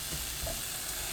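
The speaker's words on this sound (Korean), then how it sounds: "다진 마늘 1큰술, 파, 당근 넣고 센 불로 볶습니다. 팬이 달궈지면서 지글지글 소리 나기 시작하면" Minced garlic, scallion and carrot sizzle in a hot pan over high heat as they are stir-fried. The frying hiss is steady, soft and close, with nothing else heard over it.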